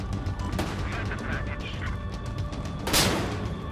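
Gunfire in a Battlefield Hardline multiplayer match crackles at a moderate distance, scattered shots over a dense, noisy game background, with one sharper, louder shot near the end.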